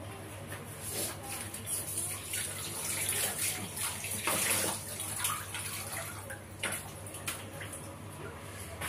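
Grain being rinsed and cleaned in water by hand for Moroccan rfissa, a steady wet swishing and sloshing up close with irregular splashes and rubbing, fairly quiet throughout.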